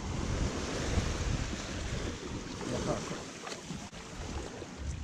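Surf rolls continuously onto a beach at Lombok, Indonesia, with a steady broadband wash of breaking waves and gusty wind buffeting the microphone.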